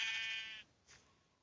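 On a farm, a sheep gives one short, faint bleat, followed by a softer, breathy trailing sound, with no other noise around it.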